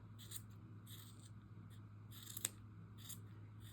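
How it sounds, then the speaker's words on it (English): Scissors trimming a yarn pom-pom over a garbage bin, several soft, regular snips close by with one sharper click, quiet and with no voices. "So I'm going to take my scissors."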